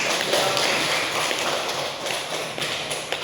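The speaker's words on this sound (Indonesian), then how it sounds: "Kita beri aplaus ke teman-teman yang sudah." Students in a classroom applaud their classmates, giving dense, steady clapping that lasts throughout.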